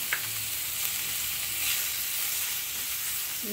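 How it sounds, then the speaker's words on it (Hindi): Garlic and coriander sizzling in a teaspoon of oil while being mixed, a steady close hiss and crackle that fills the whole moment without a break. "मैंने अब एक टीस्पून जितना ऑयल डाला है इसमें मैं ये गार्लिक और धनिया डाल दूँगी और इसको अच्छे से मिक्स करेंगे"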